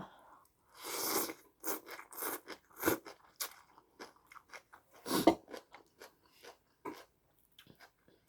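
Crisp crunching bites and chewing of fried mackerel eaten with Thai papaya salad, a series of close, irregular crunches with pauses between, no talking.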